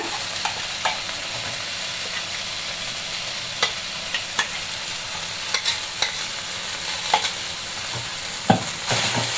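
Green chili chutney is stirred in a hot pan, giving a steady low sizzle close by, punctuated by irregular sharp scrapes and taps of a spoon against the metal.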